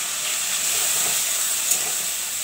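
Poppy seed paste going into frying potatoes, giving a steady close hiss of sizzling that holds for a couple of seconds, with no talk.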